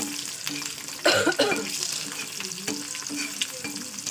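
Hot oil spatters and sizzles in a home kitchen pan, a busy crackle with a few sharper pops and bursts of stirring scrape, close and fairly loud.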